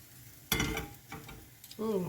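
Croutons cooking in a pan for French onion soup gratinée, with a brief burst of sizzle and a few stirring scrapes, faint and close, alongside a speaking voice.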